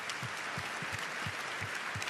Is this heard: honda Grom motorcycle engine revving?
no